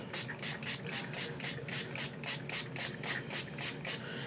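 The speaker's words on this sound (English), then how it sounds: "I'm going to wet it with my little spray bottle of water" A rapid series of soft, hissy bursts from a small water spray bottle wetting a makeup sponge, about a dozen in steady rhythm, close and fairly quiet.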